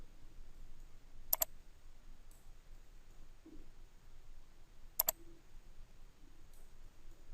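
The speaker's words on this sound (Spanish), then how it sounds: "un clic por aquí, hacer un clic, lo voy a arrastrar, otro clic, lo arrastro, otro clic" Computer mouse clicks sound while vector shapes are drawn, two quick pairs of sharp, faint clicks a few seconds apart over a quiet room hush.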